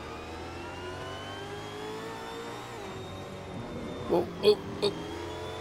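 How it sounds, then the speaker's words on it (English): A 2020 V8 Supercar from a mod in Assetto Corsa holds a steady, raw, rough engine drone throughout, with three short louder bursts near the end over a faint voice exclaiming. "rough engine note."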